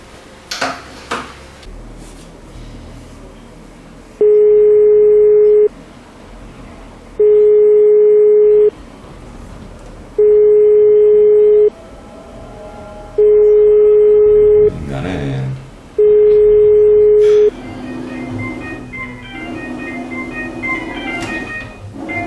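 A telephone being dialed for a call, with five identical steady beeping tones spaced evenly apart, loud and clear over faint room noise, with a few soft clicks and handling sounds around them.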